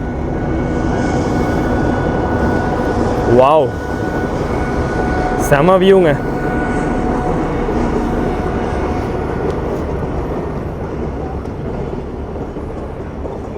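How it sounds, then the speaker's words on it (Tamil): The Ooty toy train rolls down a hill slope in a steady, loud rumbling clatter heard from on board, with two short squealing bursts along the way; a person speaks briefly over it. "சத்தம் கேட்குதா, ட்ரெயின் சத்தம் வருது வண்டி."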